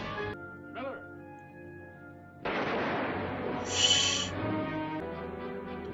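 A sudden loud gunshot bursts out in the western film High Noon, a sharp blast followed by a rumbling echo and ongoing dramatic movie sound, with brief tonal sounds before it.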